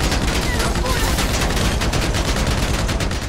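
A Combat MG machine gun in GTA 5 fires a sustained, dense burst of rapid shots, loud and continuous throughout, with the crackle of gunfire filling the scene.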